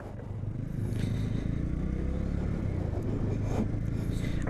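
Three Bajaj Avenger motorcycles ride along a road on the way to Kuakata in Bangladesh, giving a steady low engine drone and road rumble that holds at an even level throughout.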